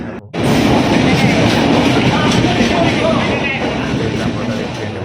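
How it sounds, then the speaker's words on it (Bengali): A passenger train on a trip toward Gangtok pulls away, a loud, close rumble of rolling wagons settling into a steady clatter from inside the carriage, with people talking over it. "এই যে ট্রেন ছাড়লো"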